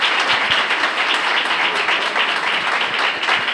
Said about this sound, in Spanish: ¿qué les parece si les damos un aplauso a ellos,